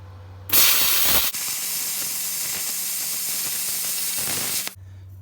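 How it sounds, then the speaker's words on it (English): A plasma cutter slices through a metal piece for a homemade truck throttle bracket. It starts with a loud sharp burst, then gives a steady intense hiss for about four seconds before cutting off abruptly. A low hum is heard before and after. "So got to cut it with a plasma cutter and a couple seconds on the bench grinder"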